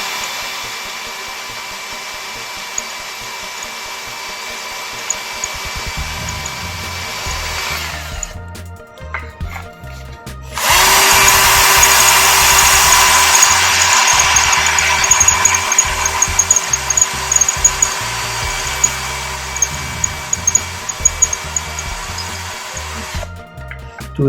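Loud bursts from a Bosch GSB 120LI cordless drill working into an old expander, a whirring motor run that stops briefly, restarts with a harsher grinding tone and carries on with uneven rattling peaks.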